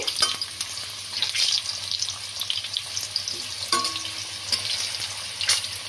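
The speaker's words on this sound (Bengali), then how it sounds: "দিয়ে আমি আলুগুলোকে ভেজে নেব।" Potatoes frying in hot oil for a Bengali mutton kosha give a steady, close sizzle with occasional stirring scrapes and clinks throughout.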